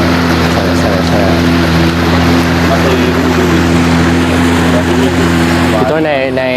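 A small motorboat's engine drones loudly and steadily up close on the water at Royal Belum, with a voice briefly rising over it near the end.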